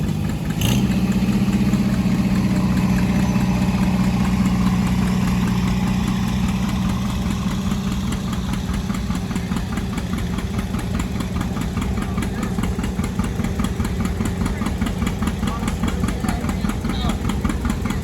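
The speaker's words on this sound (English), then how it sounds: "Brad Tewksbury from South Auburn with his 1959 John Deere 630" A 1959 John Deere 630 tractor at a classic tractor show, its engine idling steadily and loudly with a constant low throb throughout.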